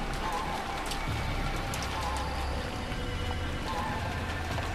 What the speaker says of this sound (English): Suddenly, the wind changed directions and the rain started hitting me fiercely.